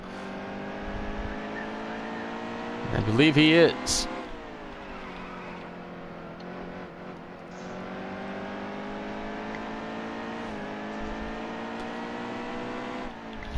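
Race car engines drone steadily in a sim racing game at Bristol, a layered harmonic hum from several cars held throughout, with a brief louder rising rev near the start and a commentator talking over it.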